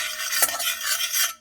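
Seeds dry roasting in a hot kadhai, stirred so they rasp and scrape steadily against the metal with a soft sizzle, close and continuous for about a second and a half, with no talk.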